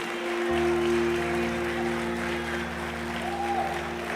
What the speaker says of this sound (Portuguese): Você pode aplaudir aquele que vive.